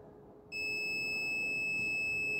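A tester's steady continuity beep sounds on the housing of a dismantled stator motor, starting sharply after a short quiet hum and holding loud and unbroken to the end.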